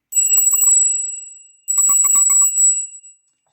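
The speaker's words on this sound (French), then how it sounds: "Je vais prendre la petite cloche pour prendre votre énergie et le mien et avoir un petit son au départ." A small hand bell rung twice, each bright metallic ring lingering and fading, a short pause between them, close and clear with no talk over it.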